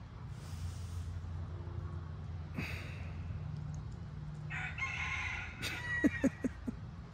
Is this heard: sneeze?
no